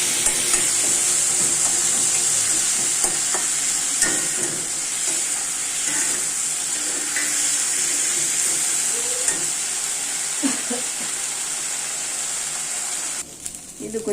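Onions or spices sautéing with a pinch of rock salt in an oiled pan for a tomato kurma, giving a steady close-up sizzle with occasional stirring scrapes, and faint voices in the background.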